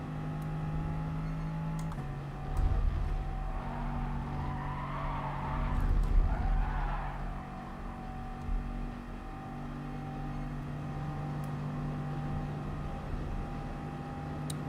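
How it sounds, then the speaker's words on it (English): A Bugatti Veyron races by in Gran Turismo Sport, its engine a steady, fairly faint drone that swells briefly as the car passes, then settles back to a low hum. "Veyron coming through."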